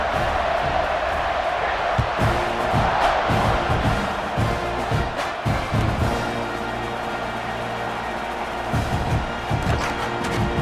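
Stadium crowd in EA Sports College Football 26, a sustained roar of cheering and shouting with scattered whoops and thumps, loud and continuous throughout, and a commentator's voice is faintly present in the mix.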